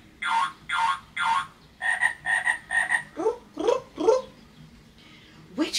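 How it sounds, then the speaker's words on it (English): A series of loud, rasping frog croaks in quick bursts, first in groups of three, then rising, throaty calls, close and clear with no talking. "Which animal is lumpy and bumpy? It's a"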